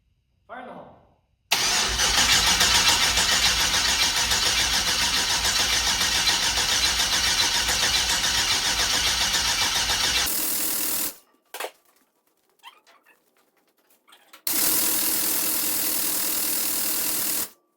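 A Chevy Nova with a swapped-in LS V8 engine fires up for the first time, cranking briefly and then roaring steadily for about nine seconds before cutting off, with a short blip and a second run after a pause.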